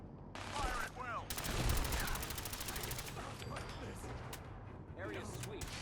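Rapid automatic gunfire in Fallout 4, with bursts of machine-gun shots rattling over a busy battle mix and a voice speaking briefly at the start.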